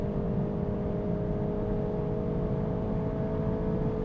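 A VW Golf GTI Clubsport accelerates at high speed on the Autobahn, heard from inside as a steady, dense engine drone with road and wind roar that holds constant throughout, with no talk.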